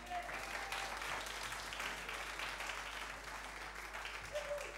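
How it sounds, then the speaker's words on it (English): Applause from an audience at a band showcase, a steady dense wash of clapping that fills the room and holds throughout. "Can we get a round of applause?"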